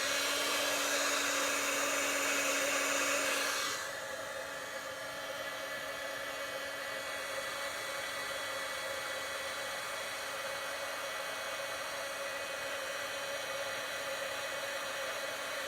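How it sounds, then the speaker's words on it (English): A crafting heat gun blows hot air with a steady, close whooshing hiss that drops slightly in level after a few seconds and then holds constant, with no voices. "Just talk amongst yourselves while I use the heat gun."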